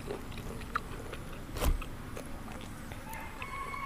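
A single crisp crunch of someone biting into Isan-style wild Amanita mushroom curry with hot sticky rice, close and fairly loud midway, with soft chewing and quiet room noise around it.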